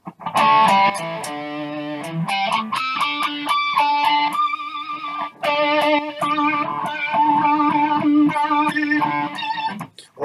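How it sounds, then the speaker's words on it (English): Rock electric guitar with heavy distortion playing squealy, high-pitched pinched notes and bends with vibrato, loud, sustained and close, phrases running continuously with brief gaps. "the last one, a favourite of most rock guitarists,"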